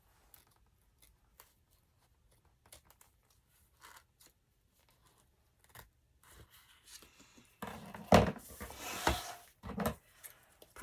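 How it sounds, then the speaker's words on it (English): Scissors cutting through paper pages of an altered book during a Christmas-themed craft, faint scattered snips and rustles that build into a few louder close cuts near the end. "let me see if I can cut away some of it"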